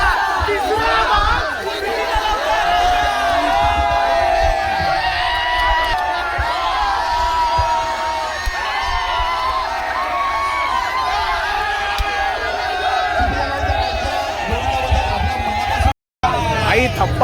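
A Govinda team crowd roars and cheers after building a nine-tier human pyramid, with loud sustained shouts, whoops and chanting voices layered over dense babble, close and energetic, ending in a brief dropout.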